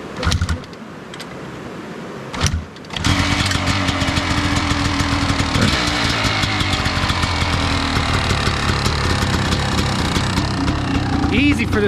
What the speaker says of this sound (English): Just fired right up. Third kick.